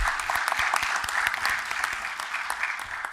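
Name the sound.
applause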